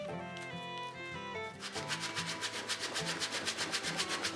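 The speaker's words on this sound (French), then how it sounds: "Comme un morceau de verre est bien plat, pour le ponçage de l'intérieur de la varlope, c'est idéal." Rhythmic back-and-forth rubbing as a flat piece of glass sands the inside of an old wooden jack plane, steady quick strokes starting after a moment of music, close.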